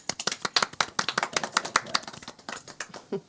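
Hands clap in a quick, uneven run of sharp claps, close and fairly quiet, as a few people applaud in a small room during a podcast.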